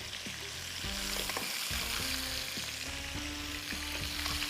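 Fried mutton boti pieces are lifted out of hot oil. A continuous sizzle plays under steady background music, with no distinct clatter standing out.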